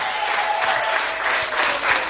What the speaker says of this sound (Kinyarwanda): Ariko kuki mutafashije ngo mukomere Imana amashyi?